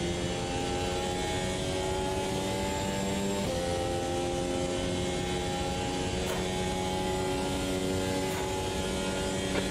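Steady, droning engine of a Porsche Cup race car in a racing sim at Curitiba, held at a constant high pitch with a slight shift mid-way, loud and close, no talk.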